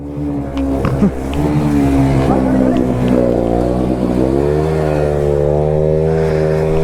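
Several Bajaj Pulsar motorbikes rev hard while off-roading, a loud, close engine drone that climbs and wavers in pitch through steady throttle pulls, with voices calling out beneath the engines.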